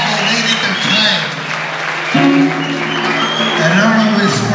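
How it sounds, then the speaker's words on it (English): Audience at a retirement party applauds loudly and steadily for the musicians who played, with voices and crowd chatter mixed in throughout. "give all the guys that played a big round of applause"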